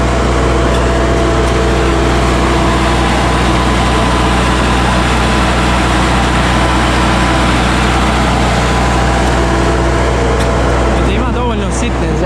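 A tractor engine runs steadily in a field during seedbed preparation with a rotary harrow, a loud, low, constant drone throughout, while someone talks over it.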